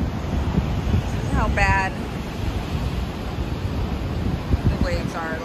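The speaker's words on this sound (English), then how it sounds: "let me show you guys these crazy waves. It is wild." Rough ocean surf crashes steadily along the rocky coast near Point Lobos in Carmel-by-the-Sea, with strong wind buffeting the microphone, while a person speaks briefly over the roar.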